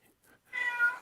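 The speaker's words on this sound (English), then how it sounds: "Bill, feed your damn cats, for God's sakes." A single cat meows close by, clear and loud, with a short drawn-out cry after two faint soft chirps.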